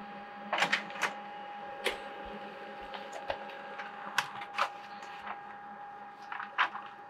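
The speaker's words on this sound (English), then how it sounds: "And now you can print a test page." An HP LaserJet Pro MFP M28w printer runs a test page, giving a steady mechanical hum broken by repeated sharp clicks and whirring bursts of the paper feed, all close and clear with no talk.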